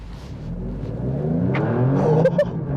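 Alfa Romeo Stelvio Quadrifoglio 2.9-liter twin-turbo V6 revving up on a track, its rising engine note growing louder and closer, with a few sharp clicks or pops near the end.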